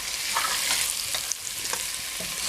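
Potatoes sizzle in a hot frying pan while a utensil stirs them, scraping and clinking in irregular strokes over a constant close crackle of frying, with no voices.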